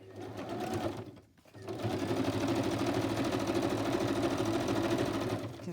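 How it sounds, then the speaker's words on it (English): A sewing machine stitches magazine pages together for a small Easter journal. A steady, rapid mechanical chatter runs close and continuous, stopping briefly near the start and then resuming. "pretending like I'm sewing fabric, I'm going to go ahead and stitch"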